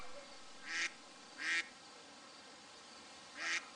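Three separate duck quacks in a preschool educational game, each short and clear, spaced apart over a quiet steady background hum, moderately loud and close, with no speech.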